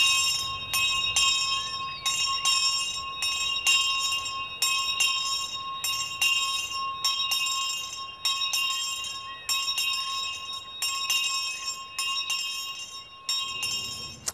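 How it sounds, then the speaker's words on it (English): A bell in a garden is rung loudly and repeatedly, with sharp, bright metallic strikes in a quick, fairly steady rhythm that keep ringing for the whole stretch, close and clear with no other sounds. "rang the bell loudly to call attention"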